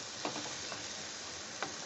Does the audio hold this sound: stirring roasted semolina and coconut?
yes